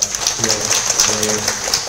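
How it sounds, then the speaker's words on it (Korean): Congregation applause at a Sunday church service congratulating a young member on finishing graduate school, a steady dense patter of many hands with voices talking underneath. "우리 축하의 박수 부탁드리겠습니다"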